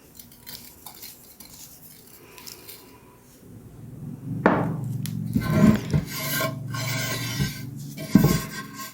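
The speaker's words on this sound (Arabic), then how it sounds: "غادي ندير هاد السميده هادي اللي هزيتها من قبل، فيها الزيت وفيها الملحه، وغادي نرش هاد المقله" Semolina mixed with oil and salt scattered into a frying pan, first soft faint rustling and scraping, then louder gritty scraping and clattering against the pan.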